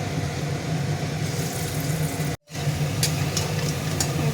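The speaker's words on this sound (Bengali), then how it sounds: "তেল গরম হয়ে গেছে, বড়গুলো ভেজে নেব।" Chana dal fritters fry in hot oil in a kadai, giving a steady, busy sizzle and crackle at close range, with a short break midway and no talk.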